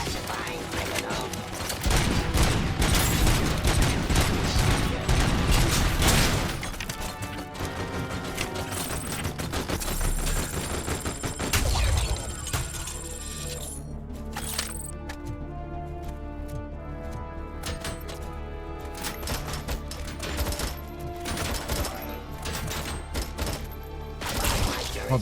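Sustained gunfire in the video game Robocop: Rogue City, loud and dense bursts with mechanical clatter and a steady game soundtrack underneath, continuing throughout.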